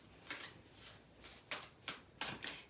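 Oracle cards shuffled by hand in several soft, papery bursts with short gaps between them, close and quiet, with no voices.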